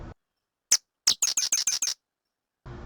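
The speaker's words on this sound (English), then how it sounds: "and the third most common birds were sedge wrens." A small bird sings two sharp chip notes followed by a quick, dry chattering trill of about six notes, close and distinct.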